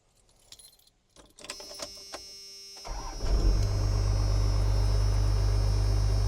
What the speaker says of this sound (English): Let's give this thing a fire up here, pop it out of gear.